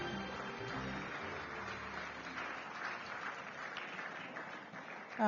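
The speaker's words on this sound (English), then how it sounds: "Keep the applause coming" An audience at a Nigerian governance and democracy forum keeps applauding, a continuous even crowd clapping that swells slightly toward the end.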